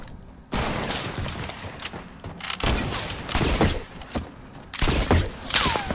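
Gunfire from guns in Fortnite, repeated clusters of sharp close shots and rapid bursts separated by short quiet gaps, loud and punchy with ringing tails.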